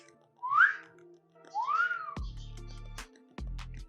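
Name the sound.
person whistling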